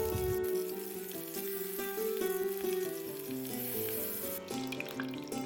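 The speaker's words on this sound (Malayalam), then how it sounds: "ഇനി നമ്മുടെ മത്തിയെല്ലാം കറിവേപ്പില ഇട്ട് വറുത്തെടുക്കണം" Sardines frying in hot oil with curry leaves, a steady crackling sizzle that continues throughout at moderate level beneath a faint background hum.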